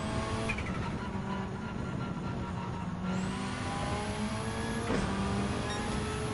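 Rally cars, a Lancia Delta-style Group B car and a Peugeot 206 Turbo, race in Gran Turismo 7, their engines droning and revving steadily with tonal whine, one pass swelling louder near the end.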